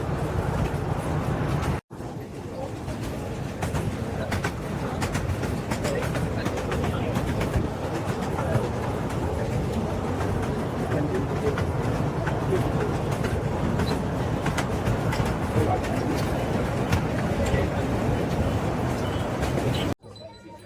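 Continuous rumble and rattle of a slow toy train ride at Elephanta Caves near Mumbai, with birds calling faintly in the background and a brief break near the start.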